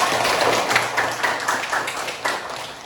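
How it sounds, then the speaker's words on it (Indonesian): A classroom of students claps hands in a brief burst, individual claps audible as a loose, fairly close rhythm of slaps that thins out over a few seconds. "Tepuk tangan."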